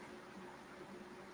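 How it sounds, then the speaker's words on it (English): A floor fan and a ceiling fan run together in a hot house, giving a faint, steady broadband whir with a low hum and no other sounds. "That's my fan on the floor there and my ceiling fan going."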